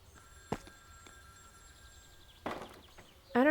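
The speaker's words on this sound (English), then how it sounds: "What phone is ringing?" A telephone rings in the video game The Stillness of the Wind: faint, tonal rings that repeat against quiet ambience, with a few louder knocks and sounds breaking in near the end.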